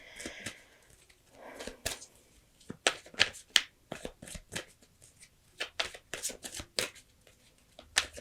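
Crisp papery riffles and taps of tarot cards being shuffled, in repeated bursts with short pauses, close by and fairly quiet.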